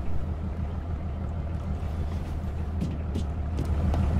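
A fishing boat engine on the North Atlantic throttles down to a stop, a steady low rumble droning throughout with faint wind and water noise and a few brief clanks near the end.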